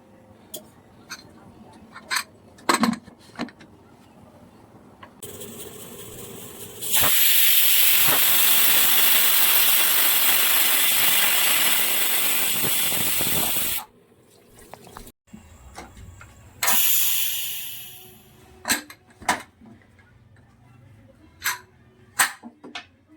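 A pressure cooker cooking vegetable pulao lets out a loud, sustained steam whistle and hiss lasting several seconds. A second shorter, fading burst follows amid scattered kitchen clicks and knocks.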